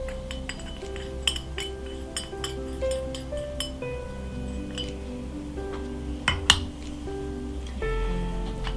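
Wood ashes being tipped into a mortar for making black salt, with light clinks and small taps of the vessel against a hard surface, faint and close in a quiet room with a steady low hum.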